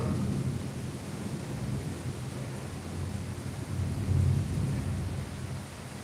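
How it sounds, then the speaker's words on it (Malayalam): Steady rain falls with low rolling thunder during a few minutes of downpour. A continuous hiss is layered over a deep, swelling rumble that grows slightly louder midway, fairly faint overall, with no voices. "ഒരു 5-6 മിനിറ്റ് മഴ ഉണ്ടല്ലേ"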